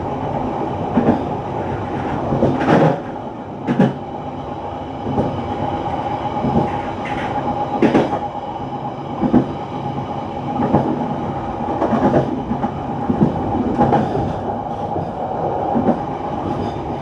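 A KA Bengawan passenger train running between stations in Indonesia, with a steady loud rumble and repeated clickety-clack wheel beats over rail joints throughout.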